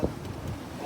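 Wind gusting around a sailing boat out on open water, a brief rushing, buffeting rumble that stays steady and fairly loud for under a second.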